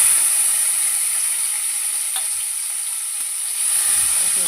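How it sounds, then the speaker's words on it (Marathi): Onion and tomato sizzling in hot oil tempering for sprouted matki misal, a loud, steady frying hiss that continues throughout without pause. "मटकी मोड आलेली आहे आणि कांदा आणि टोमॅटो एकत्र असं फोडणीला देऊन मस्तपैकी लाल करून घेऊया."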